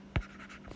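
A short, quick stroke is written on a board during a statistics lecture, followed by a fainter second mark, brief and close with no speech.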